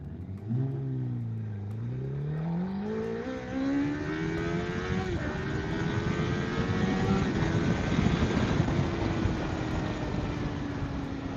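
A Honda CBR1000RR motorcycle engine revs hard and climbs steadily through the gears during a full-throttle pull, loud and close, with heavy wind roar building underneath.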